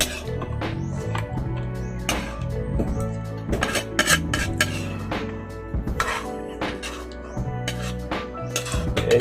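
Cooked snails clattering into a bowl, with repeated sharp clinks and knocks of shells and utensil against dishware, close and fairly loud, in irregular bursts.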